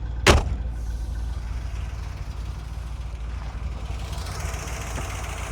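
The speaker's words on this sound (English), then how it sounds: "There's your 327, 340 horsepower, solid lifter Chevy engine." A C2 Corvette's 327 cubic inch, 340 horsepower solid-lifter Chevy V8 idles steadily with a low, even rumble, a brief sharp spike near the start, and no talking.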